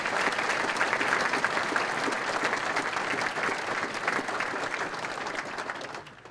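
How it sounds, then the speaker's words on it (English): Audience applause at the Best of the County 2014 event: a dense, sustained wash of many hands clapping together, steady and full for several seconds before tapering off at the end. "let's give everybody a big round of applause"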